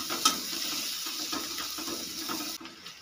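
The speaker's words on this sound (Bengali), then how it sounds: "কাঁচা লঙ্কা ও পেঁয়াজটাকে একটু ভাজা ভাজা করে নেব।" Sliced onions and slit green chillies fry in a pan, giving a steady soft sizzle with faint crackles and an occasional stirring clink, fairly quiet and uninterrupted by talk.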